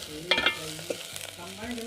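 Tomato and eggplant go into a pan of frying onions in a village kitchen, and a soft sizzle rises with a few stirring scrapes and clatters over a steady, quiet frying hiss.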